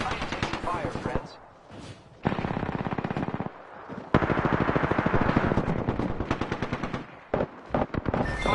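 Sustained automatic gunfire in a video game firefight, long loud bursts broken by short pauses, with a voice faintly underneath at times.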